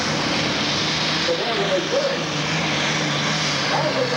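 An Allis-Chalmers D21 super stock diesel tractor with three turbochargers pulls at a 1997 Nebraska State Fair contest, a loud, sustained engine roar and turbo whine filling the clip while an announcer talks over it.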